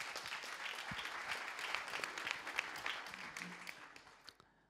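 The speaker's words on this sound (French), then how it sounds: "je vous demanderai, s'il vous plaît, de l'encourager par quelques applaudissements" Audience at a French conference on 3D printing breaks into steady, dense applause that holds evenly for several seconds, then tapers off near the end, with no talking over it.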